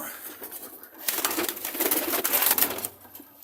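Head-crested pigeons in a Ukrainian loft coo close by, low soft burbling calls that swell in the middle and then subside, with light rustling in the background.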